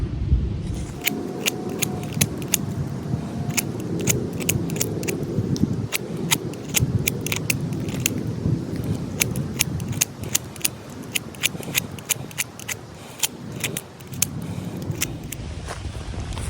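A pocketknife whittles and cuts a wooden bow drill spindle, giving a rapid series of sharp, close scraping clicks and snaps over a low rumbling background, with no talking.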